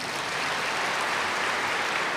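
Steady applause from a seated audience at a spiritual gathering, a dense even patter of clapping hands that holds at one level throughout with no voices over it.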